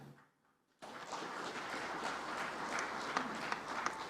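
Audience applause breaks out abruptly after a brief near-silence at a speech on pride in Indonesian-made goods, a dense steady clapping crowd sustained to the end.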